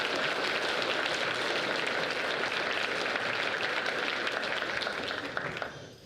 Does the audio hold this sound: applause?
yes